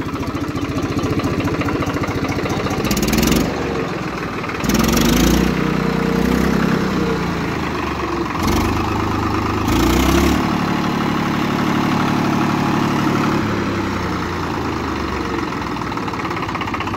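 A vintage 1991 Swaraj FE 735 tractor engine idling, a steady low diesel chugging that runs close and loud throughout, with a few brief bursts of extra noise over the rumble.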